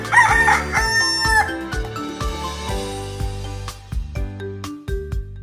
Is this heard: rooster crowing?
yes